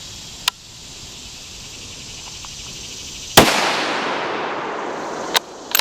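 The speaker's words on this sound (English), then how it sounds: "Okay, so that was the second shot." A single loud, close rifle shot cracks out at an outdoor shooting range, sharp and broadband with a ringing tail, bracketed by a couple of small clicks before and after; no one speaks.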